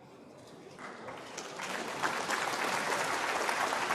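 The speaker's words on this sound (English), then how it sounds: "you heard that little bit of applause" A small audience in a snooker arena breaks into brief, soft applause that swells gradually from quiet to a fuller patter over a few seconds.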